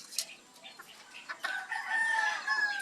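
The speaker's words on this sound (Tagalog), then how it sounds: "Yan yung isang pair ko na silver sebright." Silver Sebright bantam chickens make faint clucks and short calls, ending in a clear rooster crow that rises and holds near the end, with quiet background.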